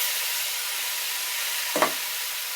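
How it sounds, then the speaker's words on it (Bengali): Raw red amaranth greens sizzle in hot oil with an even, continuous hiss close by, interrupted by one brief knock of a utensil near the end. "এইভাবে সরাসরি শাকটা তেলে ছাড়িয়ে দিচ্ছি।"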